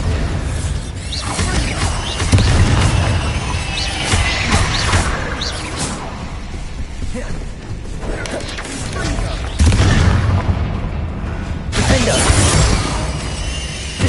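Bombarda spell explosions in the Hogwarts Legacy video game on PS5: a dense barrage of loud booms, shattering crashes and whooshes, with several bursts across the stretch over rumbling game action.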